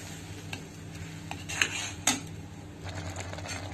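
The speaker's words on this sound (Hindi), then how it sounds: "इसको स्लो फ्लेम पे धीमे धीमे हम इसको चलाएंगे" A spoon stirs milk mixed with ghee mawa in a pan over a slow flame, a soft steady scraping with faint sizzle and two sharp metallic clinks partway through.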